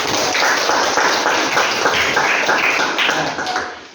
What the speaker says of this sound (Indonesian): Tepuk tangan untuk teman-teman